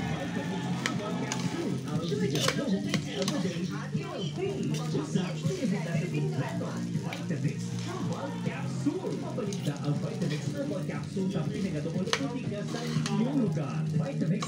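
Rice being stir-fried for sinangag in a pan, a steady close sizzle with scraping stir strokes running throughout, a voice talking over it.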